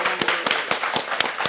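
Scattered claps from a small group during a live-streamed talk show, about eight sharp separate hand claps over a second and a half, close and fairly loud with no voices.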